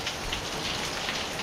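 Steady rain falls on surfaces nearby, a dense, even hiss of drops that holds without pause and is heard on its own.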